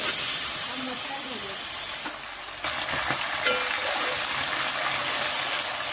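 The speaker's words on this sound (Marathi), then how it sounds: "आपण मसाले असे परतून झाले ना आपले अख्खे मसाले गरम मसाले" Whole spices such as black peppercorns sizzle in hot oil in a pan for a chickpea and cumin rice dish, a steady loud frying hiss that dips briefly in the middle, with faint stirring.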